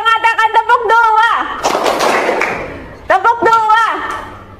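During a classroom clapping game, a voice gives instructions, then a dense burst of many hands clapping at once follows before the speaking resumes.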